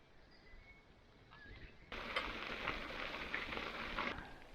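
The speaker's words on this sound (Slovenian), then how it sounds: "malo je začelo padati" Light rain begins falling around a cyclist riding on through marshy countryside, starting as a faint hush and suddenly swelling into a steady, close patter of drops.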